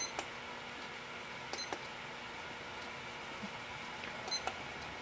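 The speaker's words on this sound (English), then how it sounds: "It just has an alarm on it." A stopwatch or clock alarm gives short, thin electronic beeps in three brief bursts, faint against quiet room noise.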